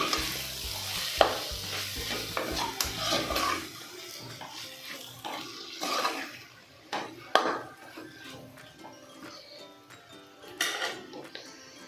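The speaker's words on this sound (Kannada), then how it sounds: "ಇಲ್ಲಿ ಪೊಟೆಟೊನ ಹಾಕ್ಕೊಂಡು ಫ್ರೈ ಮಾಡ್ಕೋಬೇಕು ಇದ್ರಲ್ಲಿ ಚೆನ್ನಾಗಿ." Boiled potatoes sizzle and fry in a pan while a utensil stirs and scrapes repeatedly, with the sizzle thinning out after a few seconds.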